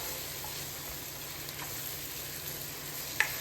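Mutton curry with chili powder sizzling and frying in a pan as it is stirred, a steady close hiss throughout with one small clink near the end.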